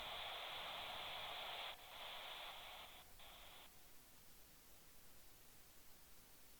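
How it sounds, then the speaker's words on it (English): A car radio in the game The Long Drive hisses with white-noise static, loud at first, then cutting off in short bursts and dropping to a faint background hush. "That's actually white noise there."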